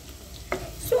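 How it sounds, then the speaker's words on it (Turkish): Finely chopped onion is stirred in melted butter in a pot, giving a quiet sizzle with a couple of brief scraping stir sounds. "Soğanımızı tenceremizde 1-2 dakika kadar çevirelim."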